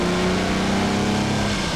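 Ferrari 250 GT Coupe engine revved up to about 4,000 rpm, a loud, steady, close mechanical roar held with no talk over it.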